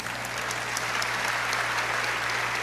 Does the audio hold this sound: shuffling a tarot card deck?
no